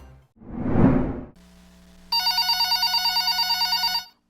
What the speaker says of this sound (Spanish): Entra una llamada desconocida al teléfono